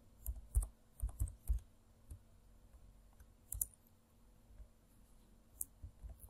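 Typing on a computer keyboard while working in Sage 100 commercial management software, with bursts of close, sharp key clicks early on, then sparser scattered taps and a few louder clacks, with no talking.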